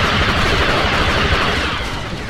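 Dense automatic gunfire crackles nonstop in a Star Wars Battlefront battle, loud and close with overlapping bursts filling the whole stretch.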